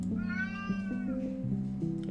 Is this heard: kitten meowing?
yes